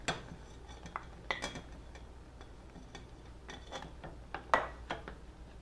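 Lemon curd with butter being stirred in a pan, scattered light clinks and taps of a utensil against the metal, irregular and fairly quiet, with one sharper knock toward the end.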